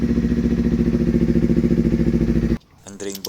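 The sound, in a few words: Kawasaki Ninja motorcycle engine idling while warming up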